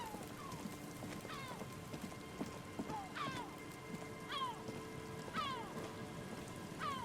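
Cold rain in the video game Disco Elysium falls steadily around reeds and an empty trap's netting, a continuous hiss with brief sweeping chirp-like tones drifting over it, with no talking.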